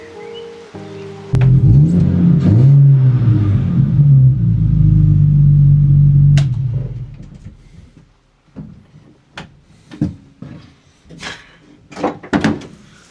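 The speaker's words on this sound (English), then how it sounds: "let me take the car in first" A turbocharged BMW E30 engine starts and runs loudly for several seconds with a deep rumble, then cuts off, followed by scattered knocks and thuds.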